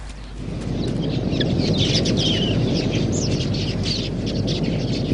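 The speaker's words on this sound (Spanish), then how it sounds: "Grandes bandadas de queleas buscan semilla y granos en la zona." Large flocks of quelea birds gather at a water hole in the African bush, a dense, continuous mass of chirping and chattering that swells in quickly and stays loud throughout.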